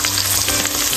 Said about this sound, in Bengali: এটাতে মাংস রান্না করবো